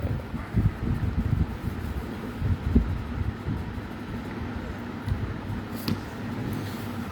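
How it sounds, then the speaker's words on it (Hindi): Strong wind gusting outdoors in Faisalabad, a steady low roar with buffeting surges battering the microphone, loud and continuous with no talk. "आज हवाएं चल रही हैं फैसलाबाद में बहुत ज़बरदस्त"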